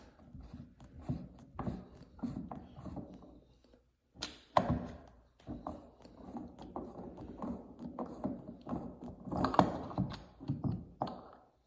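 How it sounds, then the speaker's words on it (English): Plastic handle parts of a Moen cartridge on a two-handle Roman tub faucet are twisted and pulled off, giving close, faint clicks, knocks and ratcheting scrapes in an uneven series. "So the way these come off is by holding the handle and twisting this part here."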